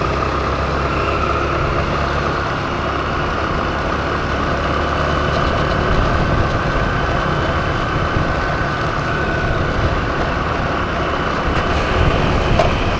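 A homemade mini Royal Enfield-style bike fitted with a scooter engine rides along, giving a steady, loud engine drone with constant road and wind noise throughout, with no talk.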